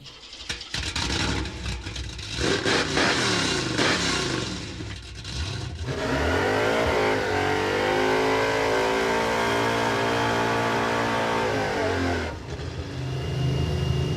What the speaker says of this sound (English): Let's go do burnouts